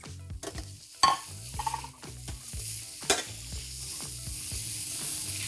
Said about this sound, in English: we're gonna add in our vegetables back in with our juices. I'm gonna mix this all up.